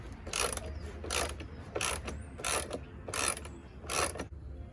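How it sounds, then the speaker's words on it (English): A ratchet with a 10mm socket loosens radiator bolts on a 2005 Nissan Altima 2.5L, giving six bursts of rapid clicking in an even rhythm, close and clear with no talking. "I have a ratchet with a 10mm socket"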